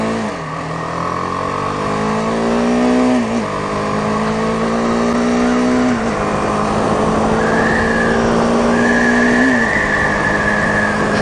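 A 2018 BMW G310R motorcycle accelerates on a test ride, its engine note rising in pitch through repeated gear shifts, with brief dips between gears, under steady wind rush up close.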